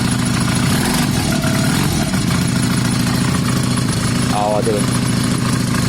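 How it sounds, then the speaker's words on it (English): A twin-cylinder bobber motorcycle engine idles with no choke, a loud close chugging rumble with an even pulse, while someone speaks briefly over it. "That started well, you heard that, there's no choke at the moment. Blatantly running on both cylinders."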